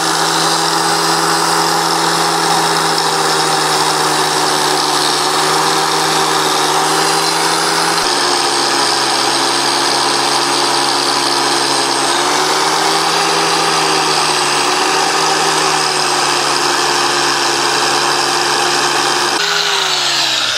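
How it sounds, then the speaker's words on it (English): An angle grinder fitted with a wire brush runs continuously while cleaning battery connections, a loud steady whine with slight pitch dips as it loads against the metal, alone with no voices. "Make sure you wear safety glasses when you're using an angle grinder at all times."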